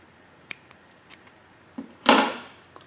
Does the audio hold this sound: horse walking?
no